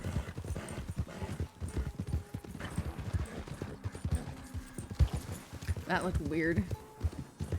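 Horse hooves clip-clop in a RedM western roleplay game, steady rapid beats running under almost constant conversation, with a brief whinny-like cry near the end.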